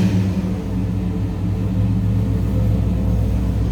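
A 1970 Chevrolet Chevelle SS tribute V8 runs nearby with a deep, steady rumble at idle, loud and continuous for a few seconds with no voices.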